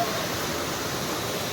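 The Machhkandana waterfall roars with fast-flowing water, a steady, loud broadband rush with no pauses, heard up close.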